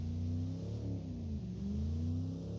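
A simulated car engine in Automation revs gently under acceleration on ice, a steady mid-pitched drone that rises and dips briefly before climbing again, heard alone and fairly close.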